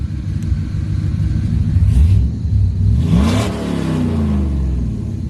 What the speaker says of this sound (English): This thing will rev freely.